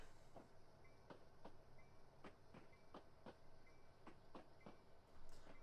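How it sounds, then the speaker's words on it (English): In a train simulator set on the Cajon Pass route to Needles, a train reverses into a yard with soft rolling rumble and regular clickety-clack wheel beats over rail joints, faint and steady with a brief squeal near the end. "We are now reversing into the correct yard."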